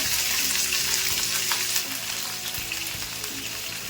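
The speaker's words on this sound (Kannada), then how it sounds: "ಎಣ್ಣೆ ಕಾದಿದೆ. ಒಂದು ಅರ್ಧ ಟೇಬಲ್ ಸ್ಪೂನ್ ಜೀರಿಗೆ ಹಾಕೊಂತಾ ಇದ್ದೀನಿ." Cumin seeds, curry leaves and green chillies sizzle in hot oil in a pan, a loud, dense and steady frying hiss heard close up with faint stirring knocks and no voices.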